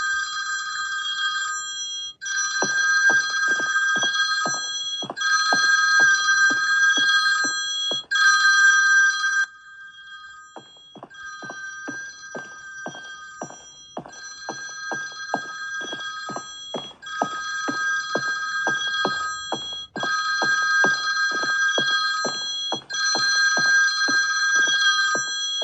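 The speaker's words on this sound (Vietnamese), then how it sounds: "Rồi, một tiếng chuông điện thoại." Telephone bell ringing in a horror video game, a loud electronic ring repeating in long regular bursts with brief pauses between them, alone without talk.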